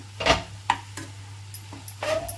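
A spoon stirring and scraping through Andhra-style chutney mixture frying in a pan on the stove: several short, separate scrapes and clacks at an irregular pace over a low steady hum, close and fairly loud.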